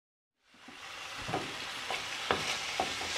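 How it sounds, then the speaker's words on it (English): Oyster mushrooms sauté in oil with a little garlic, giving a steady close sizzle with a few soft stirring knocks against the pan, no voices. "So now I'm sauteing the oyster mushrooms. A little bit of garlic and some oil."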